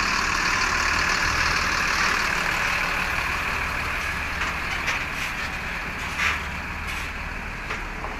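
Front-engined Mercedes-Benz OF1623 bus chassis with no body fitted, its diesel engine running at a steady low idle rumble with a few faint knocks and rattles over the drone.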